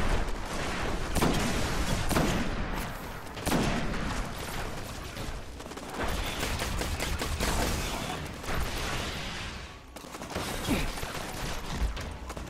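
Sustained gunfire and heavy weapon bursts during a Destiny Nightfall strike against Valus Ta'aurc, dense and continuous with repeated sharp shots and explosive hits across the whole stretch.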